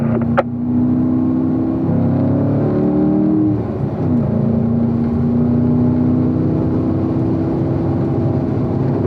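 Several race cars, among them a yellow Corvette Stingray and a Camaro, accelerate hard in fourth gear on a track at Spring Mountain, a steady loud engine drone that rises in pitch, with no talking.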